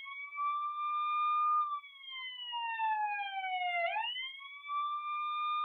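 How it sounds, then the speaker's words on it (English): A small Our Generation toy ambulance plays its electronic siren, a loud, clean wailing tone that sweeps slowly down and then jumps back up, heard close and alone. "And the siren has two different noises."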